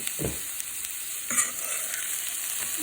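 Sautéed cabbage being stirred in a pan for a cabbage, onion and curd raita, with a few soft scraping strokes over a steady low sizzle, close and fairly quiet.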